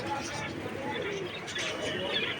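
Pigeons coo softly at a busy outdoor bird market, with chirps and the steady murmur of crowd voices throughout.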